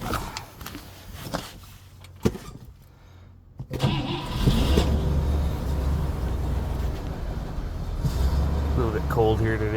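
A 1963 Superior Pontiac Bonneville limousine cranks after some clicks and a pause, catches, and settles into a steady, loud, low idle on a cold day. A person talks briefly before the start.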